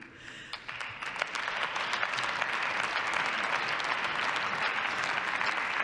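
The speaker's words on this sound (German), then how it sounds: "Applaus" Applause fills the German Bundestag plenary chamber, rising within the first second into dense, sustained clapping from many members that stays loud and even to the end.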